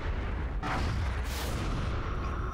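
Dense, continuous weapons fire in the XCOM Long War video game as an interceptor shoots down a UFO, a loud rumbling barrage of booms and blasts with no gaps.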